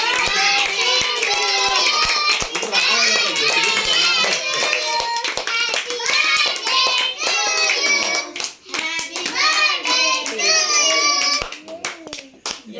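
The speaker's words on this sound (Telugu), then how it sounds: "క్లాప్స్ కొట్టండి" At a birthday party, a group claps hands in a fast, continuous patter, with voices and children chattering and calling out over the clapping throughout.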